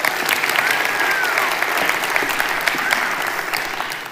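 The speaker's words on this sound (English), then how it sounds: "Give her a round of applause." Sustained applause from a large TED talk audience fills the hall at a steady, loud level, dense clapping with no pauses throughout.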